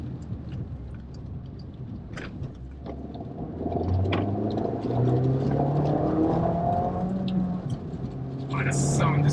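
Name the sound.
Abarth F595 car engine sound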